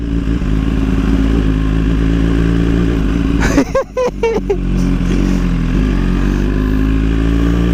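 A motorcycle being ridden gives a loud, steady engine drone throughout, broken midway by a brief clattering bump before the drone settles again.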